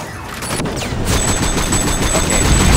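Gunfire from a weapon in the video game Sleeping Dogs crackles loudly and densely, a rapid, continuous volley of shots with little pause between them.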